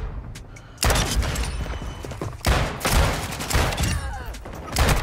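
Rapid pistol shots crack out in tight bursts during a Call of Duty MW2 multiplayer match, loud and close, with several clusters of shots over a few seconds and bits of game noise between them.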